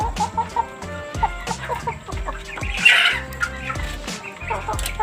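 Chickens cluck and call repeatedly in a clean coop while eating feed, several birds close by making overlapping short clucks and squawks with a steady background of pecking and movement.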